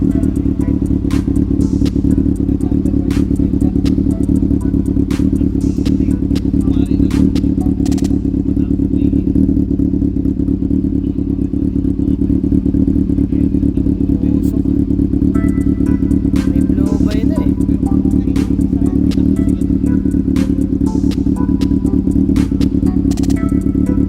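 A repaired Honda CB400 motorcycle engine idles steadily, a close, continuous low thrum with light mechanical clatter and occasional ticks, running throughout without stalling.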